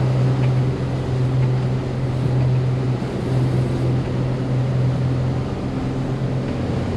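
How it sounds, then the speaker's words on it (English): A 2016 Seaward 42 motor yacht's engine drones steadily at a low pitch as the boat turns, mixed with wind and rushing water, with no talking. "let's bring the boat into quite a decent turn actually"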